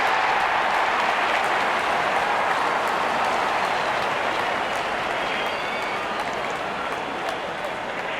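Crowd applause at a cricket match in the Real Cricket 24 game, a dense continuous clatter of clapping at steady loudness, with commentary spoken over it.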